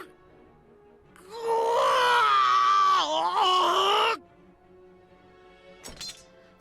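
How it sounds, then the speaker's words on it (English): A man screams in anguish in the video game Hakuoki, a loud, strained, sustained cry lasting over two seconds with a brief break partway through, then falling to quiet with a short sharp noise afterward. "Sanan-san screamed in anguish,"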